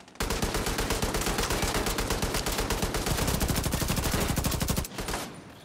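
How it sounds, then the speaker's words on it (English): Light machine gun fire in The Division 2, a rapid, unbroken stream of loud close shots lasting about five seconds before cutting off abruptly. "he's got damn light machine gun"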